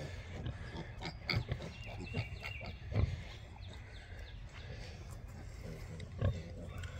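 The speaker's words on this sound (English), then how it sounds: "We've got 10 little Hereford pigs." Newborn Hereford piglets on a farm give faint, scattered grunts and short squeaks, quiet and somewhat distant, with a few louder snorts against low background noise.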